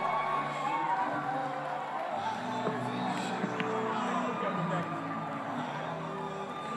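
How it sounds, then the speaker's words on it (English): A crowd at a startup demo day cheers for the winning team, Neogen. A continuous wash of cheering, whoops and crowd hubbub holds at an even level throughout, with voices mixed in. "Give them a round of applause."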